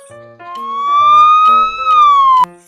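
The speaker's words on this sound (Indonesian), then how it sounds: "Wow, mobil pemadam kebakaran teman-teman." A toy fire truck siren wails in a loud, close electronic tone that rises, holds and falls over about two and a half seconds, alone without talk.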